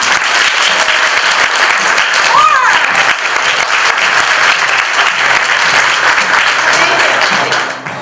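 Loud, sustained audience applause at a Toronto entrepreneurs' conference, dense and steady for several seconds before tapering at the end, with a voice briefly audible underneath.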